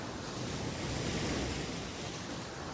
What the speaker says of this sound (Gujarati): જો આખો પાણો કાપી જ નાખે એવું પાણી આવે છે